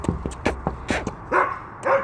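Aggressive barking from a neighbor's dog, a run of sharp, loud barks in irregular bursts close by, followed by two longer, rougher growling barks, with no talk over it.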